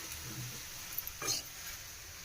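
Greens cooking on a low flame in a pan give a soft, steady sizzle, with a brief spoon scrape and stir about midway through, close and quiet, with no talking.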